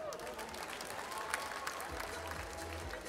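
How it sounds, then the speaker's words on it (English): Audience applause for award winners at a green awards gala, a continuous blur of clapping from a sizable crowd with faint voices mixed in, heard at low volume and some distance. "let's give a round of applause to the winners"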